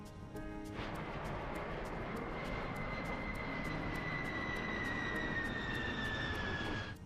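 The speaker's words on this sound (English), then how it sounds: "Béchet's plan is to descend to 30 feet, as Asseline's A320 did." An Airbus A320 jet flies low at about 30 feet with a loud, steady engine roar that holds for several seconds and carries a whining tone that slowly falls in pitch.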